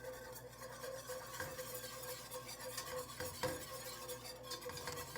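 A whisk scraping and stirring a roux in a pot, with continuous metallic swishing and clinking and a faint sizzle, close and moderately loud, with no talk over it.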